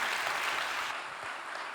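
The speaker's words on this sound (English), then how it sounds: "join me in giving David a round of applause" An audience applauds a presenter at a startup finalists event, a steady wash of clapping that thins slightly partway through.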